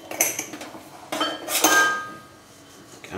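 Leftover poultry being roughly chopped with a knife in a home kitchen: a few sharp, close knocks and clatters spaced apart, with quiet gaps between them and no talking.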